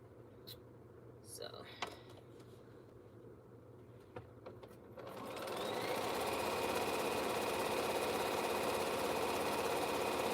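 A sewing machine stitching t-shirt quilt seams starts midway, settling into a steady fast mechanical whir after a few quiet clicks and faint handling sounds.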